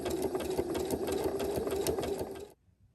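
A sewing machine runs a narrow zigzag stitch, 0.5 wide and 4.0 long, in one steady, close, continuous whir that stops abruptly near the end, leaving near silence.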